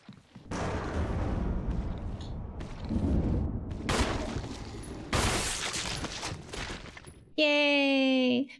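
Video game gunfire while trying for a headshot: loud, close bursts of shots and booms in several sustained volleys, ending with a sharp tonal in-game chime.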